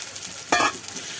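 Meat goes into a cooked-down spice paste in a pan, setting off one brief loud burst of sizzling over a low background hiss, close by with no voices.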